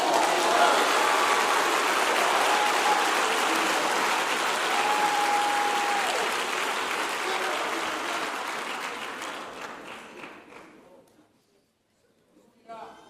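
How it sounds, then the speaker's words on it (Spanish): A church congregation applauds during a Sunday sermon, a loud, sustained roar of many hands clapping that gradually thins and fades out to near silence. "Alguien déle un aplauso a Jesús."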